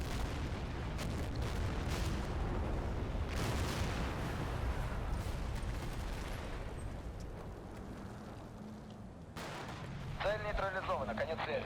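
Machine gun and artillery fire in the Cold War tactical game Combat Mission Cold War, with dense rumbling battle noise and repeated booms and crackling bursts, easing later, while someone talks over it.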